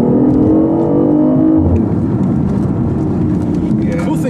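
A 2015 BMW i8 hybrid drives hard on a racetrack, its engine droning loudly then dropping as the revs fall off, with people talking over it.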